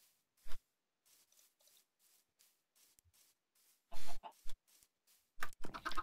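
Chickens in the video game Minecraft give short, sparse clucks separated by quiet gaps, then a quicker cluster of sharp clucks and pops toward the end.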